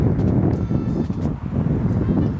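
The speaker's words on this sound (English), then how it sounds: "Wind's kind of going crazy here and there" Gusty outdoor wind rumbles steadily across the microphone during a backlit portrait photo shoot, a low continuous buffeting with soft variations and no clear talk.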